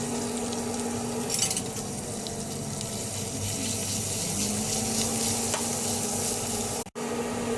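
Chopped garlic fries in a pan until brown for a porridge topping, a steady, close crackling sizzle that goes on throughout, with a brief sharp scrape near the end and no talk.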